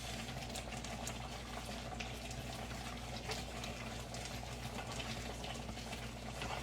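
Thick peanut brittle candy mixture boiling in a pot on the stove, giving a steady close bubbling hiss over a low hum that runs evenly throughout, with no talking.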